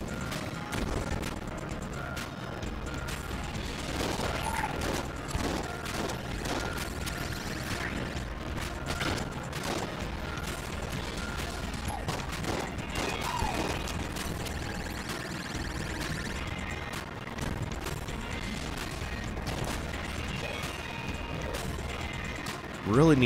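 Winchester rifle fire in the video game Enter the Gungeon, with rapid, repeated sharp shots and crashing impacts scattered through a dense, busy mix of game effects over more than twenty seconds.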